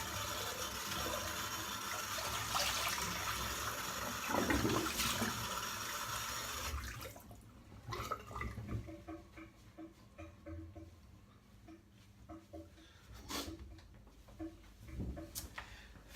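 Running water rushes loudly from a tap for several seconds while a face is rinsed after shaving, then cuts off, leaving quieter drips, splashes and small handling knocks.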